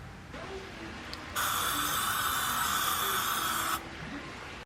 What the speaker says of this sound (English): I'm still on spraying everything down real quick.